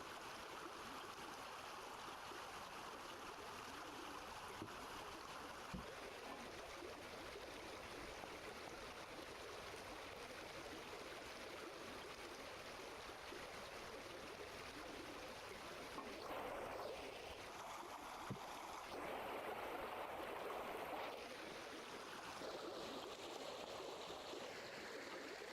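A water wheel turns in Vintage Story, giving a steady, faint rush of flowing water with soft splashing swells that rise briefly now and then, with no voices.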